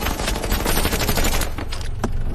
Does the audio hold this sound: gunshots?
yes